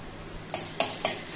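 Garlic being stirred in a spoonful of hot oil in a kadhai, with three or four quick metallic scrapes and taps of a spoon against the pan over a faint sizzle.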